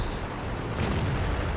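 Tank gun firing in the video game World of Tanks, a single heavy boom that cuts through a loud, continuous rumble of battle noise.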